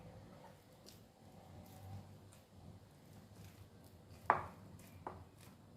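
A couple of soft, isolated knife taps on a board as boiled potatoes are divided into eight pieces for a kizhikoodu egg snack, in a quiet kitchen.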